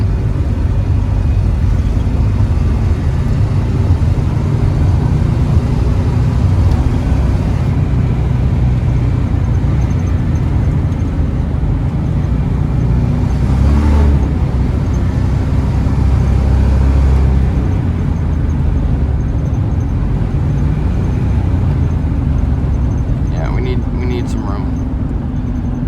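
A car with a 4-speed transmission, apparently a 1996-97 GM 4L60E automatic, drives with a loud, steady engine drone and road rumble through most of the stretch, a rise near the middle, and voices talking over it.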